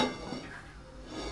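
Metal pots and a steamer pan clink and knock softly as a water pot is set to boil with a steaming tray on top, for making pastilla pastry sheets at home; faint, brief kitchen handling.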